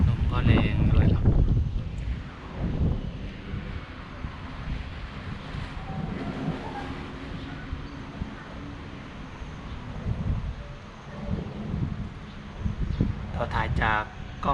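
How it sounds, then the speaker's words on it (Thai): Strong gusts during a rainstorm in Kalasin, Thailand buffet a GoPro Hero 7 Black, producing loud, continuous rumbling wind noise across the microphone that swells and eases throughout, with no clear voices. "ลมก็แรงด้วยครับ"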